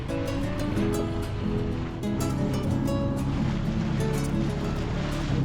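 Boat cruising on open water at sunset, with a continuous broadband rush of water and wind against the hull and a low steady engine drone throughout, fairly loud and unbroken.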